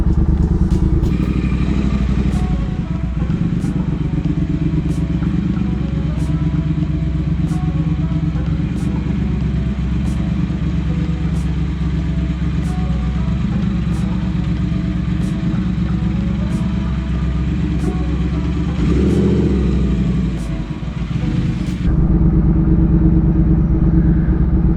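A motorcycle rumbles steadily close by on its first ride of the season, a continuous engine drone with regular ticking clatter, before the sound changes sharply near the end as it pulls away.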